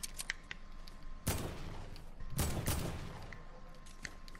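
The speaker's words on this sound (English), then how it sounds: "I'm being shot from somewhere else." Video game gunfire in two bursts of rapid shots, fairly loud, with faint clicks and background game sounds in between.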